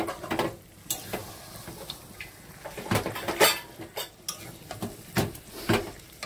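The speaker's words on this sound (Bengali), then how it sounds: "মশলাটা মশলা হয়ে গেছে, মাংসটা দিয়ে দিলাম।" Meat frying in a spice paste of ground tomato and green chili in oil, stirred with a utensil: sharp scraping and clinking strokes come at irregular intervals over a low, steady sizzle, close and moderately loud with no talking.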